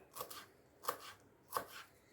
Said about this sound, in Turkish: hemen doğramaya devam ediyorum